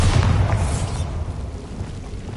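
Bombarda explosive spell cast in the Hogwarts Legacy video game, one loud booming blast at the start that rumbles low and fades into a lingering roar over the next two seconds.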